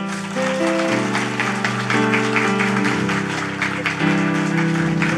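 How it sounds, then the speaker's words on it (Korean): Applause from a church congregation at a discipleship-training graduation service, a steady patter of clapping mixed with sustained organ or keyboard chords playing throughout. "박수 부탁드립니다"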